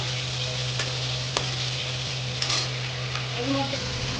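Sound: prawns frying in pan

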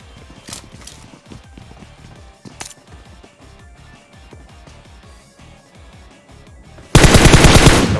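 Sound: gunfire in video game PUBG Mobile

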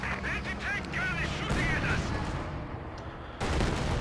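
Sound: anti-tank gun firing in Company of Heroes 2 video game

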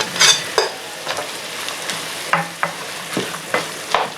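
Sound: onion and leek frying in a pan

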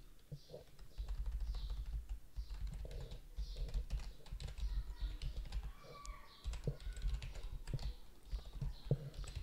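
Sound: typing code on a computer keyboard

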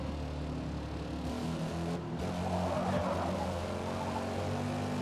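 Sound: race car at Mugello Circuit in video game Forza Motorsport

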